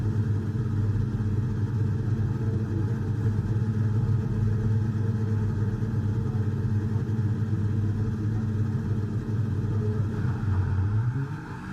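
A V6 Formula 1 car engine in the F1 23 video game, an Alfa Romeo, drones continuously at steady revs, a buzzy mid-pitched whine that dips briefly near the end.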